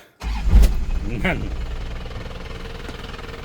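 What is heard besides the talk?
pickup truck engine starting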